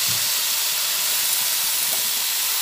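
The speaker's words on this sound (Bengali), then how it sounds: "এবার গ্যাসের ফ্লেমটা বাড়িয়ে দিয়ে দিয়েছি, দিয়ে সবজিগুলোকে সুন্দর মশলার সঙ্গে ভেজে নেব" Sliced vegetables frying with spices in a pan over a raised gas flame, a steady hiss and sizzle that holds evenly throughout with no talk.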